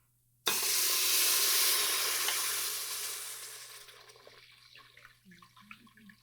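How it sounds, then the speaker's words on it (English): Food hits a hot pan in a cooking class and bursts into a loud, broad sizzle with steam, the hiss gradually easing and crackling as it settles, no talk over it. "this is going to steam up, guys."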